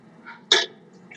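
A single short cough from a woman on a remote council meeting call, one sharp burst standing alone over faint room background.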